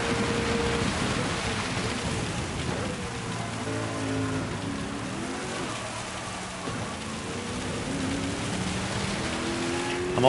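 Steady hiss of rain falling in a Le Mans racing video game, continuous and fairly loud, with a car engine's rising and falling drone running underneath.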